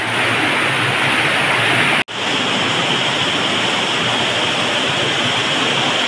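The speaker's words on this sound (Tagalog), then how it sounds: "Beautiful chamber. With a waterfall." A waterfall pours into a cave chamber, its loud, dense, continuous rush holding steady throughout apart from one brief dropout.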